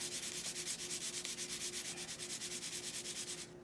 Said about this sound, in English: go ahead and give your cookie a little shake